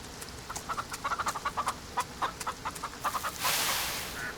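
Jersey Giant chickens in the farming video game Farm Together cluck in a steady run of short, close, repeated calls, ending with a brief burst of hissy noise.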